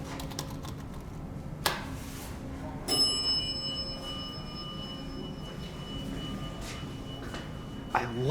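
Bells on a 1976 Guardian traction elevator ring inside the car or lobby, a couple of sharp metallic dings with lingering tones over a steady mechanical hum, with faint clicks between them.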